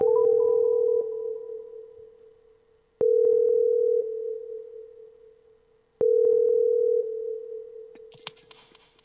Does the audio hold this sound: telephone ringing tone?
yes